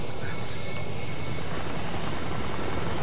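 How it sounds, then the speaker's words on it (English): A helicopter in the video game Kane & Lynch: Dog Days makes a loud, steady rotor roar with a rhythmic thudding beat that fills the whole moment, with no voices over it. "Fuck, chopper!"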